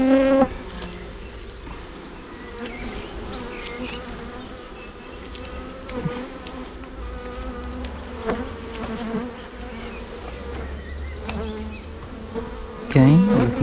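Honeybees in Hive 2 buzz steadily throughout an open-hive inspection of a brood box nearly full of frames, a dense close drone with shifting pitch and a few louder swells near the end.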